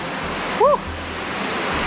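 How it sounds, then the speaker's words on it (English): Steady broadband rushing of a waterfall just around the corner on a jungle trek in Java, Indonesia, loud and continuous with a brief whistle-like chirp partway through. "now, we're literally around the corner from the waterfall"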